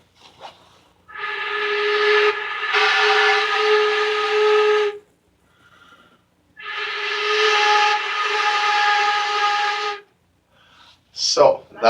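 A flute sounds a sustained high G in two long, steady, fairly loud tones with a short gap between them, and brief sounds follow at the end.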